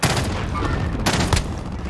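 Loud bursts of gunfire in Call of Duty: Warzone, a couple of sharp volleys over a dense, noisy background of battle.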